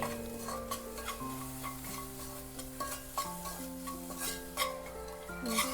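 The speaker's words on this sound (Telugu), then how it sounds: "ఇప్పుడు బాగా కలుపుకోవాలి" A spoon stirs salted egg curry with green chillies in a pan, producing soft, irregular scrapes and light clinks over a faint steady sizzle, quiet and close.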